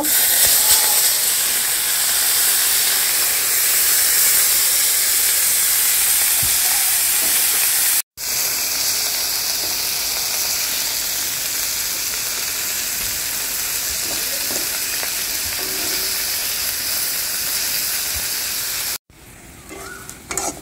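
Food fries in hot oil with a loud, constant hissing sizzle that carries on without a break, then cuts out briefly and resumes before dropping away near the end.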